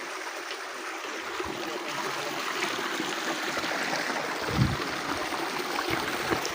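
A stream flows among large rocks, its steady rushing and splashing water filling the whole clip at a constant level with no voices.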